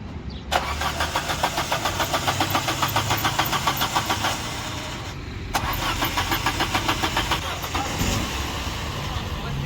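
A worn car engine, run after repair, idles loudly and close with a rough, steadily pulsing rhythm. It cuts out briefly partway through, then catches and runs again, with faint voices in the background.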